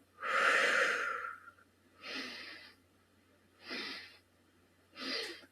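Breathing during a yoga exercise, one long loud breath followed by three shorter airy breaths, evenly spaced and close, with no talk.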